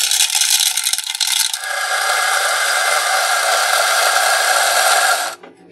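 A Mazzer Mini coffee grinder whirs through a short grind, starting with a rattling burst before settling into a steady, close, high-pitched mechanical buzz that cuts off abruptly near the end.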